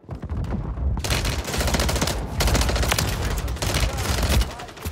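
A Striker 9 submachine gun in a Call of Duty video game firing long, dense automatic bursts, loud and close, almost unbroken for several seconds with brief pauses and no talking.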